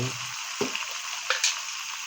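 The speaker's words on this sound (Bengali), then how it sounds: "দিয়ে মশলাটা আবার ভালোভাবে নাড়তে হবে।" A spice mix sizzles quietly as it fries in beef fat for a potato dish, with a steady hiss and a few soft clicks and scrapes from stirring.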